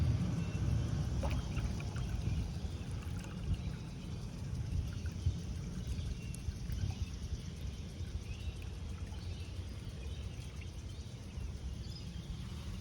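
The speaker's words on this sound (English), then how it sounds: "I'll add some more water until that's right up at the top" Water poured into a bucket of growing media, a soft continuous trickle and splash at close range, low and steady for the whole stretch with no talking.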